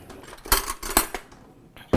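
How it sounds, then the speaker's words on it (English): A utensil stirs herbs and spices such as green peppercorn, basil, tarragon, chervil, bay leaves and dill in a rice cooker pot, making a few sharp metallic clinks and scrapes in quick succession, close by, with no talking. "And let me stir this up a little bit"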